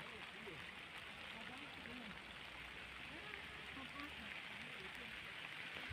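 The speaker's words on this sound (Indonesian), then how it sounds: "Wah, hari hujan ya teman-teman." Steady, dense rain hisses down over a lush carrot field, an even wash of patter that holds for the whole stretch, with faint voices murmuring underneath.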